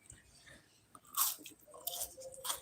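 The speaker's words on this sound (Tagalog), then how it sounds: "Malutong." Crisp crunching bites into fried eggplant, a few close, sharp crackles in quick succession with quiet chewing between them.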